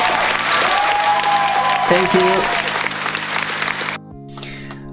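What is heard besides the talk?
applause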